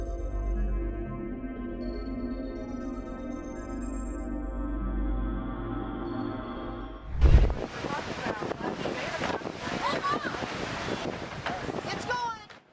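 Large ocean waves crash and churn in a roaring surf with heavy wind noise, a loud burst at the impact and then sustained rushing water, following a stretch of low music.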